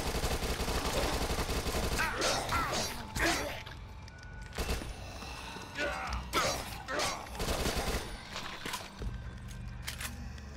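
Rapid SMG gunfire in the zombie shooter Dead Nation, heard as loud, dense bursts of shots over a constant game soundtrack and effects, with no voices.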